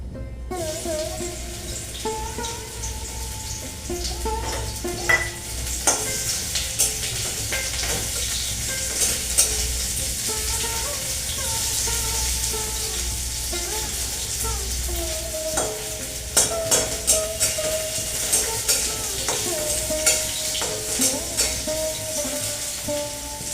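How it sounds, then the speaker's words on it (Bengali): Bitter gourd (karela) fries in oil in a pan, giving a steady close sizzle throughout, with scraping stirs and occasional clinks of a utensil against the pan, and no talk. "করলাটা ভেজে নিচ্ছি।"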